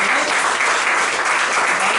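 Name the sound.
applause in church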